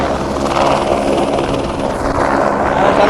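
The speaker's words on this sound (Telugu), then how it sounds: "చూస్తున్నారు కదా హెలికాప్టర్, ఇదే అనమాట." A helicopter flies close by near Kedarnath in cold, snowy mountain weather, its rotor and engine roar steady, loud and continuous throughout.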